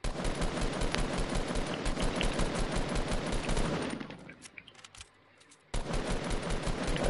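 Rapid, loud automatic gunfire in a shooter video game, a dense sustained burst that cuts out briefly near the end before resuming at full volume.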